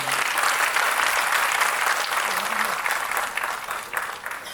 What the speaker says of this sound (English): Let's welcome him with a warm round of applause, ladies and gentlemen.